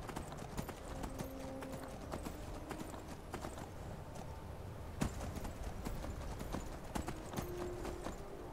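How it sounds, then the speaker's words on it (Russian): Horse hooves clop in a steady, uneven rhythm on hard ground in the video game Skyrim, moderately close, with occasional louder thuds and no talking. "Здесь моя"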